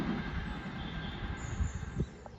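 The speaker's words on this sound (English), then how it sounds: "Avanti service to Manchester Piccadilly from London Euston." An Avanti passenger train on the West Coast Main Line runs past close by, with a steady rumble of wheels on rail, a thin high squeal and a few clunks from the carriages.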